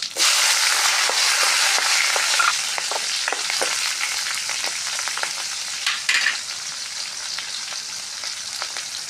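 Green chillies, garlic and cumin fry in hot oil with a bright, continuous sizzle and crackle, broken by scattered stirring scrapes and pops, loud and close.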